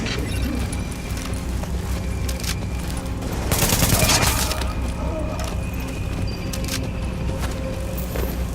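Gunfire in the video game Tom Clancy's The Division, a dense burst of shots swelling around the middle over a steady background din of ambient game noise, with no voices.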